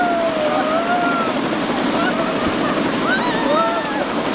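Constant loud helicopter rotor and engine roar from inside the cabin on a snowy mountain, with voices talking faintly underneath.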